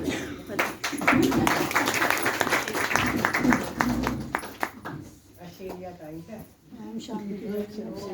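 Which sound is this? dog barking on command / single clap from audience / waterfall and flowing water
single clap from audience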